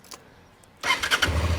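Honda Transalp motorcycle engine starting beside a ramp: a brief starter whir and click, then the engine catches abruptly into a loud, rumbling idle close by, without talk.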